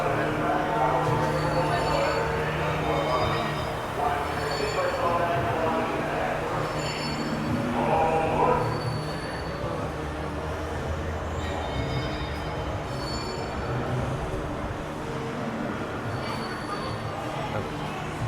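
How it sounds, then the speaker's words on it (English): Dr. Seuss Highway in the Sky trolley train ride at Islands of Adventure, a steady rolling rumble of wheels on track with light rhythmic clatter and occasional high squeaks, close by under people talking. "So we're going on the Dr. Seuss Highway in the Sky trolley train."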